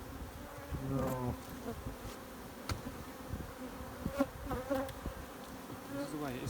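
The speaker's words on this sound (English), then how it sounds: "A lot of bees, people. A lot of bees." Many honey bees in a chimney buzz continuously around the listener, a dense, wavering hum with individual insects passing close now and then.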